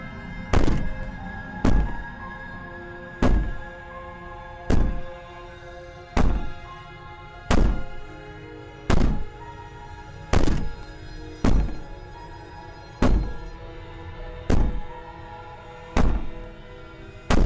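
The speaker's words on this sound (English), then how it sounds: "Maybe the banging and wailing will stop if you just don't pay attention to it." Heavy banging in a video game, a dozen loud, evenly spaced thuds roughly every second and a half, each with a short ringing tail, no voices.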